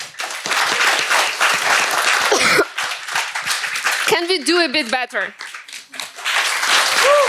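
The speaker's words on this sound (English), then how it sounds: "Let's do a round of applause" A crowd gives a round of applause for startup founders at a Challenger Demo Day, the clapping loud and dense at first, then a voice speaks over thinning claps before another burst of applause.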